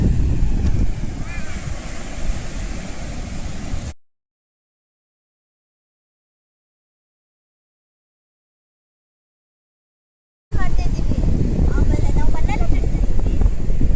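Wind buffets the microphone on a soft-sand beach at sunset, with surf rumbling underneath, in two loud stretches separated by several seconds of complete silence.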